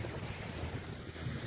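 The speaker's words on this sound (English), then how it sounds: "I got to hear it because it's really windy" Steady wind rushing and buffeting over the microphone on a beach, with a low rumble like surf in the background; no voices, continuous for the whole moment.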